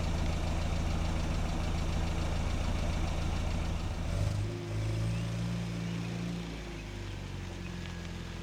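A car engine idles steadily as it warms up before a long drive toward the Arctic, a close, low rumble that settles into a slightly lower, smoother hum partway through.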